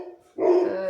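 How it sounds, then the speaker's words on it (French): A pet dog barks indoors once in a single short, fairly faint yelp-like bark after a brief quiet tone, with no talk over it. "Il entend des bruits forts et du coup, il aboie."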